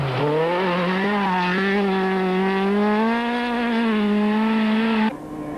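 A BMW rally car's engine screams loud and close on a Sasol Rally 2003 stage, its pitch climbing and holding a high, rich, sustained howl for about five seconds before abruptly cutting off.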